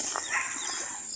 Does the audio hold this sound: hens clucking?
yes